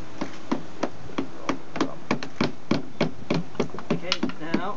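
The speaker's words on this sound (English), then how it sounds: "Hammer it in." Repeated sharp hammer strikes while splitting a bee hive, a dozen or so at a fairly even pace that quickens toward the end, with a brief voice near the finish.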